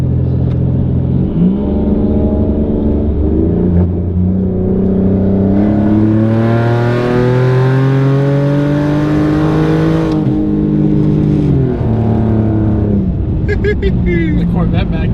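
Turbocharged car fitted with an AMR turbo kit revs hard on a dyno, engine pitch climbing steadily through a long pull, then dropping back; loud and close, with voices talking over it.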